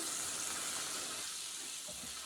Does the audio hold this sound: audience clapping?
no